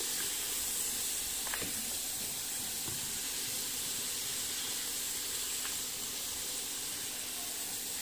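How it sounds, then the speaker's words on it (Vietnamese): Mackerel fillets frying in hot oil, each side cooked about a minute before the fish is lifted out for braising with tomato; a steady, fairly quiet hiss and sizzle runs throughout with a few faint clicks, no talking. "Mình gắp cá ra nè, mình chiên mỗi mặt khoảng 1 phút thôi."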